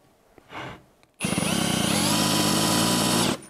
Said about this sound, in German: Dann hört er automatisch auf, der Akkuschrauber.